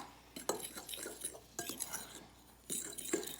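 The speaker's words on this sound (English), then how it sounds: "we're gonna whisk together the ingredients I just put in. Well, I'm using a fork." A fork whisks baking ingredients together in a bowl, making light, quick clinks and scrapes in three short bursts, faint and close, with no talk.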